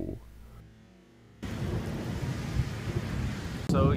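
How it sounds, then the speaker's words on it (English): A deep, loud roll of thunder rumbles through steady heavy rain, starting after a brief quiet moment and sustaining to the end. "Lightning, thunder, pretty crazy."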